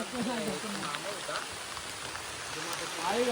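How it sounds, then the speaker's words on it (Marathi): Heavy rain pouring down on a hiker climbing a steep Sahyadri slope, a steady close wash of rainfall with brief voice sounds over it. "पाऊस खूप जोरात आलाय वरती येऊन."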